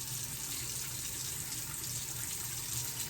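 A tap runs steadily into a sink for face washing, a constant close hiss and splash of flowing water without pause and with no voices.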